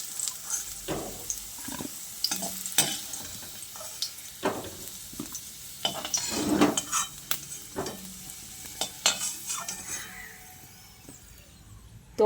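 Fried potatoes are scraped and lifted from a hot pan with a spatula, a series of irregular close scrapes and knocks over a soft oil sizzle that fades near the end.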